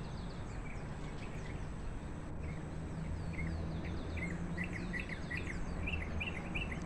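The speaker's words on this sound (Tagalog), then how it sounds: "Lalong-lalo na yung mga honi ng ibon. Ang ganda, pakinggan." Birds chirp and call in short, scattered bursts at a distance by Taal Lake, faint over a steady outdoor hiss with insects droning, no voices.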